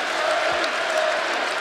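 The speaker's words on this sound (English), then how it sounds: "I love places like this where the crowd is so fired up" A fired-up basketball arena crowd at a Purdue vs Indiana game roars steadily as a dense, constant wash of cheering and clapping, with a commentator's voice faintly underneath.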